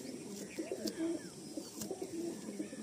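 A pigeon held in the hand gives two close, low cooing phrases, one after the other, with faint handling noise and no speech.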